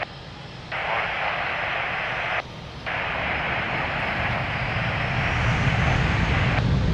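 Airplane taking off from runway 02 at Lisbon Airport, heard as a steady loud engine roar that holds and slowly builds, with a hissing band that cuts in and out briefly.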